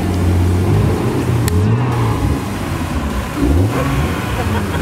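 At a car meet, a loud car engine revs up and down repeatedly, close by, with pitch rising and falling in surges.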